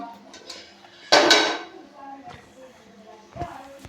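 A pressure cooker is set down on a kitchen gas stove, giving one loud metallic clank followed by a few lighter knocks and clinks.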